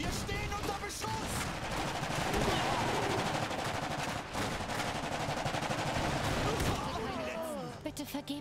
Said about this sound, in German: Wir stehen unter Beschuss.